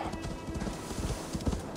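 Hooves clip-clop in a quick, even rhythm, close and clear, as a horse trots along.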